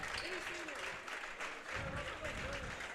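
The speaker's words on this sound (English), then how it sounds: "the crowd going wild for him" A crowd at a high school varsity boys basketball game between West Prairie and Rushville-Industry applauds and cheers steadily. A commentator talks over it.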